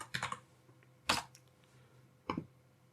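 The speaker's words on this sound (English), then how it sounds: "let's type position" Computer keyboard typing while entering CSS code for a Divi menu bar: three short clusters of crisp key clicks spaced about a second apart, close and fairly quiet against a faint hum.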